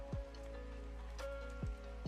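Rain falls steadily in the video game Ostranaughts, a soft continuous hiss of drops laid over low game tones, with a few faint thumps and no talking.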